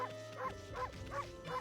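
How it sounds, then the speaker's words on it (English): A game dog in Okami barks in a steady repeated pattern, four or five tonal, slightly synthetic woofs evenly spaced over a low droning music bed. "and A is barking."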